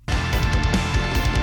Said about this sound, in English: reggae drums. Sounds like this.